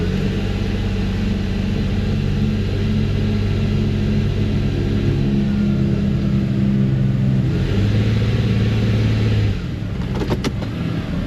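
A car engine idles steadily while shifted into gear in an auto repair shop during an EGR valve check, a continuous low hum with a slight drop in pitch partway through and a brief clicking near the end.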